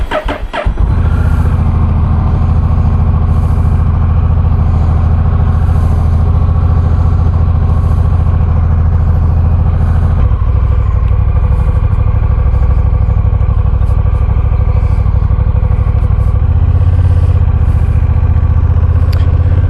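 A 2024 Honda Rebel 1100T cruiser motorcycle engine drones steadily and loud throughout while being ridden out of a neighborhood, with a deep rumbling exhaust and a brief dip in revs midway, no speech.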